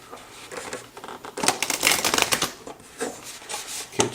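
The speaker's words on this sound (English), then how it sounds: "One more shuffle." A deck of tarot cards being shuffled by hand, giving repeated crisp riffling bursts, close and fairly quiet, that come in several short waves with brief pauses between them and no voices.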